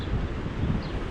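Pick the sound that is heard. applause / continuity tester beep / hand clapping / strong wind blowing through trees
strong wind blowing through trees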